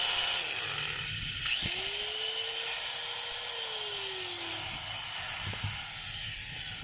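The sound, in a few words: DeWalt DW810 4-inch angle grinder running, opened up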